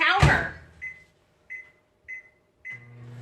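A microwave oven warming ganache on the defrost setting, a sharp door clunk followed by a series of short, evenly spaced beeps, four in all, with a low hum starting near the end.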